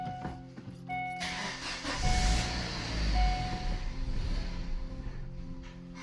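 A Suzuki Forenza engine idles steadily in a garage as it is left running to burn off its fuel, a low continuous rumble with a brief surge partway through.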